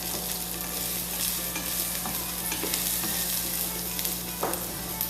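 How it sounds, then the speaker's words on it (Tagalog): Garlic and onion sautéing in a pan until lightly browned, a steady soft sizzle with occasional spatula scrapes and stirs, a low hum underneath and no voices. "Garlic and onion. Medyo brown lang. So, saute lang natin."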